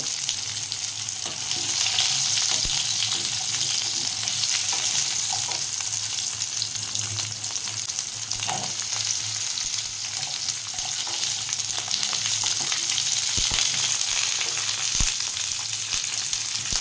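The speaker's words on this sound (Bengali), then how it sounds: "পটল আর আলুটা একটু তেলের উপরে চাড়া করে নেব" Steady, close sizzling of pointed gourd and potato frying in oil, with a constant hiss and a few soft stirring clicks, no voices.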